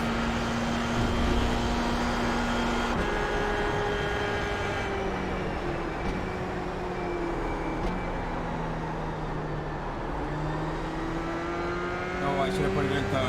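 A race car engine in the iRacing sim game drones steadily, its pitch rising and falling through gear changes and coasting, loud and continuous, with a few spoken remarks over it.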